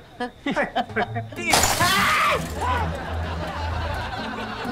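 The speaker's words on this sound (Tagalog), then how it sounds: "Basag! Yung paso ko!" A clay flower pot smashes on the floor in a comedy scene: a loud, sudden crash with scattering fragments follows a few short voiced sounds and fades into steady room noise.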